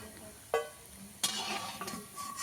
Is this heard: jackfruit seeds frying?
yes